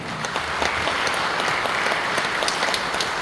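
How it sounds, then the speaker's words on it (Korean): Steady, dense applause fills an indoor assembly hall at a church general assembly's public hearing for secretary-general candidates, sustained clapping from a large audience throughout. "총 세 분을 통해서 박수 주시기 바랍니다"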